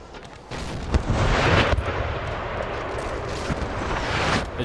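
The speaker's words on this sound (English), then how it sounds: "Artillery here just shelling away." Artillery shells away in a video game battle, dueling with Austrian guns, a continuous loud rumble of distant booms and blasts rolling over one another with sharper thumps near the start.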